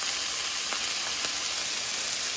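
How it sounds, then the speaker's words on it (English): A vegan burger sizzles in a hot pan after a splash of low-sodium tamari, a steady close frying hiss with faint crackles and no talk. "Up some sizzle."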